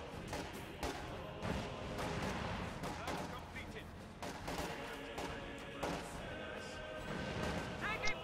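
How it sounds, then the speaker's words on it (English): Repeated PTRS anti-tank rifle shots and explosions in a World War II strategy game battle, firing irregularly as sharp cracks and booming blasts at mid distance over a rumbling backdrop of combat. "Flak half-track moving to assist, takes another blast from those PTRSs over there"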